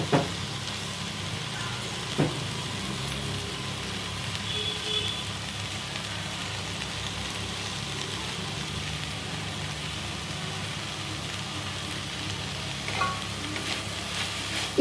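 Capsicum cooks with coarsely ground masala powder in a pan, giving a low, steady sizzle and soft hiss throughout, with occasional faint clinks of stirring and no talking.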